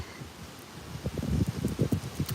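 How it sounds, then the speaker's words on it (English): Gusts of wind buffet the microphone in rising, uneven bursts of low rumble, growing stronger after a quieter start, with no voices. "it's a little bit windy here. Every now and then there's like a huge gust of wind"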